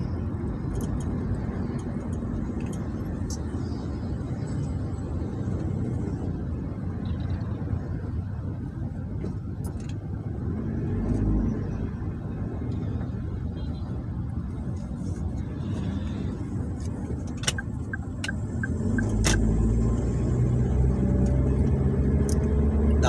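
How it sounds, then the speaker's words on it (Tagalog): Cars roll past outside Vista Mall in Santa Rosa, a steady rumble of traffic with engines swelling as vehicles go by near and far, plus a few brief clicks and louder passes toward the end. "Daming sasakyan dito"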